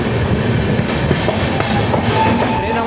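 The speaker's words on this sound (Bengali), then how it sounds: "বর্ধমান জংশন থেকে আমাদের ট্রেন ছেড়ে দিচ্ছে" A passenger train pulling out of Bardhaman Junction rolls along the rails with a loud, steady rumble and faint repeated wheel clacks, heard close from on board.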